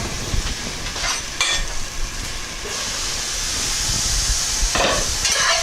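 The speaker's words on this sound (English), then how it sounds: "All right, we'll put the teriyaki sauce in there." Sirloin beef and teriyaki sauce sizzling in a stir-fry pan, a loud, close, steady hiss with bursts of stirring and scraping near the start and end.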